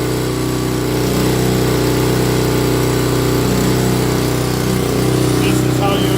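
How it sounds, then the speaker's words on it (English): Honda HS520 snow blower engine running steadily just after starting, a loud, even mechanical drone that holds a constant pitch throughout. "You'll hear the engine smooth out."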